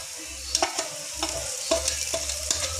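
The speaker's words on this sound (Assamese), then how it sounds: "এতিয়া মই ইয়াত এই কলফুলখিনি দি দিওঁ।" Chopped banana flower goes into a hot pan and fries with a steady sizzle, broken by several sharp scrapes of a spatula stirring it, close and moderately quiet.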